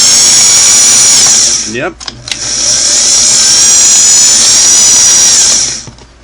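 The motor of a vintage Singer sewing machine runs close and loud with a steady high whir, dips and restarts briefly partway through, then winds down. A voice speaks briefly during the pause.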